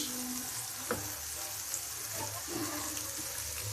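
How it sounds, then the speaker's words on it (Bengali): Chopped Chinese red cabbage with fresh red chilli frying in a pan, a steady loud sizzle with a few scraping stirs and clinks from a utensil, no talking. "রঙিন পাতাকপি চাইনিজ রঙিন পাতাকপি এখন এটার সাথে এটা উল্টিয়ে পাল্টিয়ে দিব ভালো মতো"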